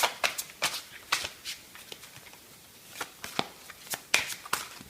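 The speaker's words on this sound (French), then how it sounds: "Je vais prendre une seule carte." Tarot cards are drawn and flicked from a deck in a series of sharp, close papery snaps and slides at an irregular rhythm, quiet overall and with no talking.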